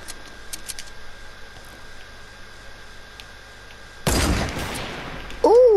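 A gunshot in the video game Fortnite lands as one sudden loud crack about two-thirds of the way in, with a rumbling tail, after a stretch of quiet background hum and faint clicks.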